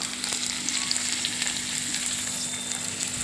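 Chilli, chopped tomato and ground spice paste fry in a pan while being stirred, giving a steady, close sizzle with faint scraping and a low background hum, and no talking.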